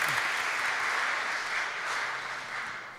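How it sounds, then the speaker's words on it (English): Brief congregational applause for a bishop during a church service livestream, an even wash of clapping for about three seconds, moderately distant. "Give him a round of applause as he goes to sit down"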